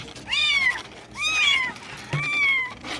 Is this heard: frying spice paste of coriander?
no